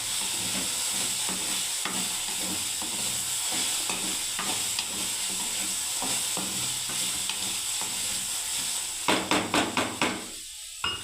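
Okra frying in a pan for a vendi piyaji fry, a constant close sizzle with steady spatula stirring and scraping, ending in a burst of sharp knocks against the pan.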